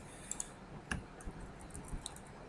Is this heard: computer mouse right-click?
yes